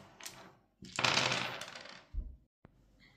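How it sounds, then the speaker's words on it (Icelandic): Dice for the board game Heckmeck rattle and clatter on a table, a close, bright tumble lasting about a second, followed by a few softer knocks and a single sharp click. "Spilarinn geymir þessi teninga og kastar aftur en bara hinum teningunum, ekki fjörkunum."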